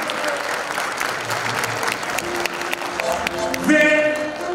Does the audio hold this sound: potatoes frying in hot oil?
no